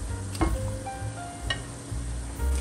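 Apple cider donuts fry in hot oil with a faint, steady sizzle and a couple of soft clinks or stirs, no talk.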